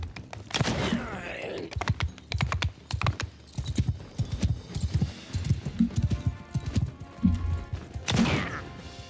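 Horse hooves clip-clop steadily in the video game Old Realms, a continuous rhythmic trot with thumps and game noises layered over it, moderately loud throughout.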